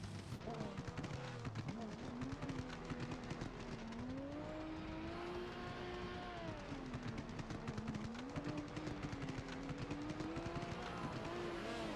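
A Ferrari and a Nissan S15 Silvia drift car at Silverstone rev and begin their run together, engines droning loudly with rising and falling pitch over constant crowd and track noise while a commentator talks over them.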